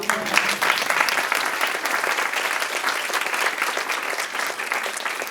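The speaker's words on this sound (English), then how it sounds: "Just one more round of applause for him" Sustained audience applause at an author talk and Q&A event, a dense, steady clapping from a full room that holds throughout without pause.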